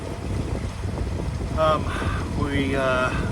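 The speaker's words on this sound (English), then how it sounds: "We've got the wind behind us now" Steady wind rushes over a sailboat heading south under autopilot, a constant broad roar with microphone buffeting, while a voice talks over it partway through.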